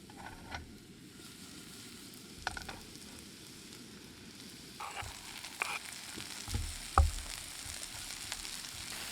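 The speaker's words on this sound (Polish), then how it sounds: "gdy pieczarki i cebula się smażą" Soft, steady sizzling of mushrooms and onion frying in a pan, with occasional light clinks and scrapes of a utensil; no talking.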